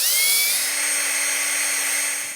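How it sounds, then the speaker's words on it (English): Steady, high-pitched whine of a step drill grinding into a rusted brake line flare nut on a 1999 Chevy 1500, loud and close, holding one continuous tone with no talking. "My step drill can't quite get through the flare nut"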